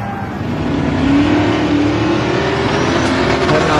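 A loud race car engine, a roughly 1400 hp donk, revs and accelerates close by, with a rising engine tone and a steady roar that holds for several seconds.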